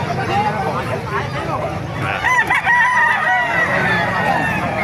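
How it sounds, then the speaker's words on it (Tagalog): Roosters crow loudly and repeatedly while hens cluck, over a busy hubbub of people chattering nearby at an early-morning chicken market in Bocaue, Bulacan. "Daming manok, no?"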